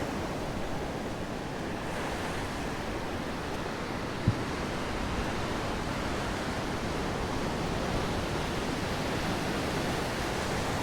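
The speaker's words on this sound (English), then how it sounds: "Never get tired of the ocean." Ocean surf rolls onto the beach at Ocean City, Maryland, a steady broad wash of breaking waves mixed with wind, with no voices and one brief knock partway through.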